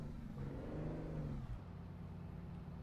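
In-game truck engine from American Truck Simulator while backing up slowly, a loud steady low drone with a brief rising rev before settling back, continuous throughout with no talking.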